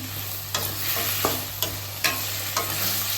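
Carrots, beans and other vegetables sautéing in a pan for sambar rice: a steady close sizzle with several sharp scraping stirs of a spoon against the pan, no voices.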